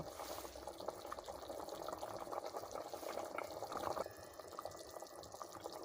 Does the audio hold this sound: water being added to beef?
yes